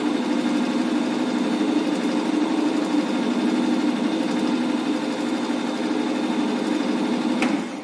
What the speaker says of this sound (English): we should switch off pump